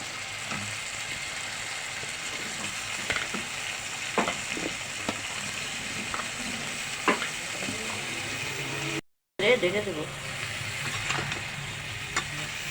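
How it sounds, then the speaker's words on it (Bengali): Eggplant stir-frying in a pan with eggs, a steady broadband sizzle running throughout with scattered scraping stirs, briefly cut to silence near the end before the frying resumes loudly. "বন্ধুরা দেখুন বেগুন আমি কষিয়ে নিচ্ছি"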